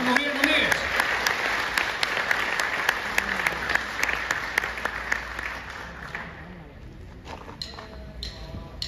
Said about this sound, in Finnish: annetaan vielä aplodit Hannulle.